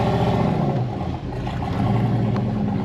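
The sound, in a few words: Ford Sierra engine revving while driving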